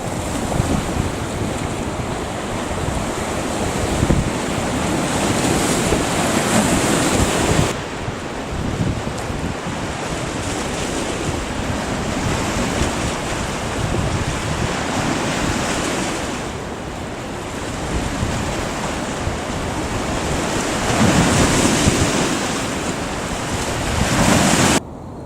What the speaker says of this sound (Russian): Это уже бухточки, но тоже волны есть.